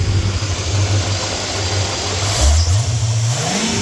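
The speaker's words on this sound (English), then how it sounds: "give you one more rev" A 1984 Corvette Z51 V8 with FiTech fuel injection revs up once, the deep engine note climbing steeply in pitch near the end over a steady loud running drone, close and with no talk.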